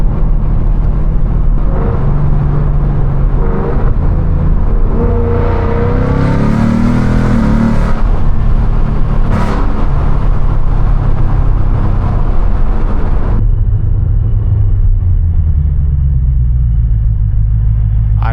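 A straight-piped Ford Mustang GT with a 10-speed automatic, heard from inside while driving, deep loud exhaust rumble rising through gears with rev climbs and shifts, then settling into a lower steady drone.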